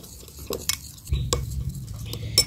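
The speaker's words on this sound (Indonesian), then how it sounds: "nah, seperti ini kita aduk" Stirring a sugar glider feed mixture in a small container, with a few sharp scrapes and clinks of a spoon against the sides over a low rumbling background, close and fairly quiet.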